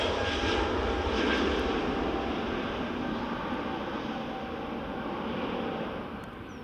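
An EasyJet airliner passes at Edinburgh Airport with a broad, steady jet roar that fades slowly as it moves away, heard from a distance with wind noise and no clear voices.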